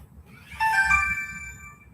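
Mobile phone ringtone: a brief, bright electronic chime of a few melodic notes, rising and fading within about a second, over a low background murmur.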